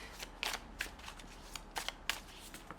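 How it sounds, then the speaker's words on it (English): Slippery plastic board game cards are shuffled close up, giving soft riffling bursts and light clicks in an uneven rhythm over a quiet background. "ordinarily you would shuffle all of these into a pile, and I'll quickly do that now."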